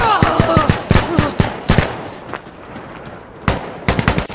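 Rapid gunshots ring out in Insurgency Sandstorm, a close burst of automatic fire followed by a lull and then further scattered shots, loud and sharp with a faint voice underneath.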